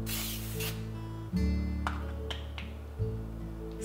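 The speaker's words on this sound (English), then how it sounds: "let's start with spraying the pan with some Pam" Pam cooking spray hisses onto a pan in a few short bursts, close and fairly quiet, with no talk.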